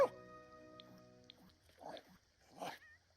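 A puppy in The Sims 4 gives a couple of soft, sad whimpers, quiet and brief, alongside faint game sounds.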